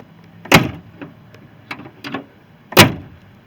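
A door on a 1980 Jeep Wagoneer is swung shut twice, each time landing as a sharp, heavy, close metallic thunk, with softer clicks and rattles of the latch in between.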